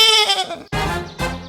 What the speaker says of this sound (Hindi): और दूसरे ही क्षण साबू बकरा बन जाता है।